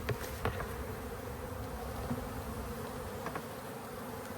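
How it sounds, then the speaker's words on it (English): Many honeybees buzz steadily close by, a dense continuous drone with a few louder individual passes. "get myself a cup of bees"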